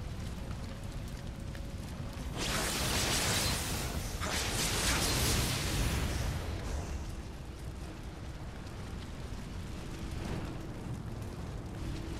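A character in Nioh bursts into flames, a loud roaring whoosh of fire flaring up twice over steady background game ambience.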